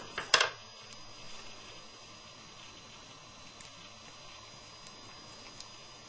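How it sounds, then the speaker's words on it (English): A polymer clay figurine set into a small tin pan gives a quick cluster of light metallic clinks at the start, followed by faint, sparse taps against a quiet background. "I'm going to put her back into her little tin pan"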